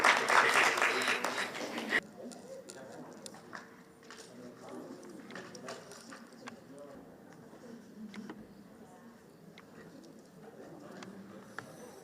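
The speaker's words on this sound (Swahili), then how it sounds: "Makofi, makofi, makofi," Applause from an audience at an event for a First Lady's sewing machine handover, a loud burst of clapping for about two seconds that cuts off, followed by quieter room noise with scattered taps and talk.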